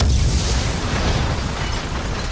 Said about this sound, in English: then something blows up our boat